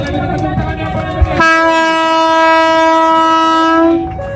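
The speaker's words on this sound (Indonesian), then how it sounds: "Kereta istimewa akan kembali diberangkatkan." A PT KAI special train in Indonesia sounds its horn as it departs. A loud, sustained, steady horn blast runs for about two and a half seconds over a rumbling train and crowd din, then cuts off.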